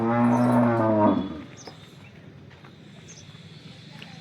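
A local Banaskantha cow on a farm gives one loud, close, drawn-out moo that ends after about a second, leaving quiet barn ambience.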